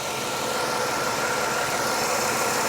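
A 1996 Cadillac Fleetwood Brougham idles with a steady, even engine rumble and broad hiss, continuous and fairly close, with no talking over it.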